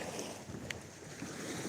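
Lake water sloshing and slapping against a floating dock that shifts with the waves, a steady wash of splashes under light wind noise, close and moderately loud with no talking.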